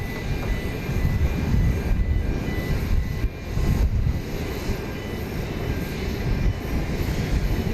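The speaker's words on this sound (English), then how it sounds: "Southwest Flight 1105 is coming in from Jacksonville in Florida, max 8." A Southwest Boeing 737 MAX 8 arriving at Dallas Love Field roars overhead, a loud, broad engine rumble that holds steady throughout, with a short dip in the middle.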